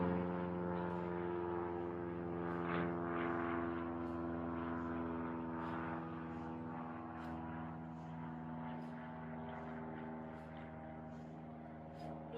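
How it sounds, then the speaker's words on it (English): A propeller airplane drones overhead during an outdoor Thanksgiving workout, a steady low engine hum with harmonic layers holding throughout without speech. "Apologies for the plane noise. Someone's flying above me."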